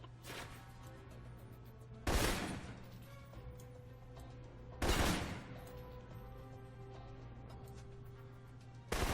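Two loud, sharp bursts of assault rifle fire ring out about three seconds apart in the spy shooter Alpha Protocol, each with a ringing tail, over a steady low hum of game ambience.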